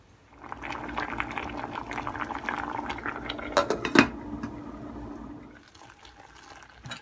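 Water heating in a pot for aam panna bubbles and hisses at a moderate level, with a brief clatter of metal on cookware midway before the bubbling settles and fades.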